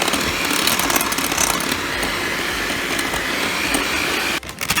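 An electric mixer beats cake batter on its slow setting, giving a loud, steady whirring drone with a rattling edge that runs almost the whole time and breaks off briefly near the end.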